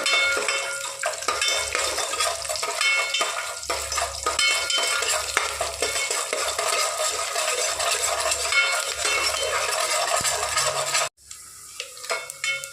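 Chopped garlic frying in a pan for a Tamil brinjal tamarind curry, a steady dense sizzle with stirring scrapes throughout, close and loud, cutting off abruptly near the end.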